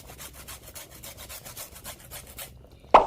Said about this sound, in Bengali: এখানে যে লেবুটা নিয়েছি এটা আমি কাটার দিয়ে ঘষে দিয়ে দেব।